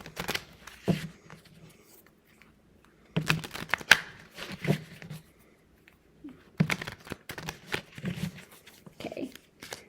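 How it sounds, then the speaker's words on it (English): A deck of cards is ruffle shuffled in quiet bursts: crisp riffling flutters, then soft taps and shuffles as the cards are squared up, repeated several times close by with short silences between. "Let's do a ruffle shuffle and see what we get with that."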